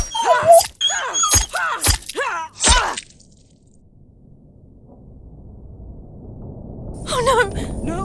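A dog whimpers and yips in a video game, a run of sharp whining cries followed by quieter ambient rumble and a brief closing yelp.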